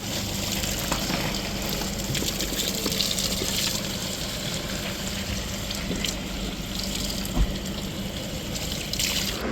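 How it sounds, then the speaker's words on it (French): Cool spring water from the Papemato source in Tahiti pouring steadily into empty water bottles outdoors, a constant close rushing trickle that fills the whole stretch without pause, no talking. "ici il y a la source Papemato, donc je vais remplir mon eau"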